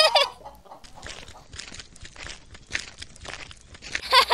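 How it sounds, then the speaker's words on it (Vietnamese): A flock of cartoon chickens clucks and squawks in a steady, busy chatter throughout, with a few sharper, louder calls near the start and end. "một đàn gà béo mẩm."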